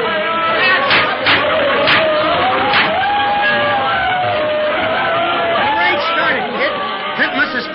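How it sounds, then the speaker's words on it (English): A crowd on a pier watches a fight in a radio drama, a busy hubbub of overlapping chatter with shouts and bursts of cheering that rises and falls steadily throughout. "It's tough to get through this crowd watching the fight."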